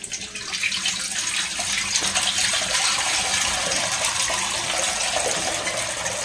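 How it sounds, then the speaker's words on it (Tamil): Water from a jug pours steadily into a cooking pot while pasta is being made, a continuous splashing gush that stays fairly loud and even from start to finish with no talking. "இப்போ வந்து தண்ணி சேர்த்துக்கலாம்."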